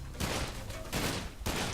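Rapid gunfire from a Sunset Overdrive game fight comes in three dense, loud bursts separated by brief dips, with no talking.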